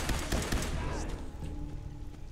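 A quick burst of gunfire in the video game Fallout 4, several sharp shots packed into the first half-second, then trailing off over a steady low background rumble.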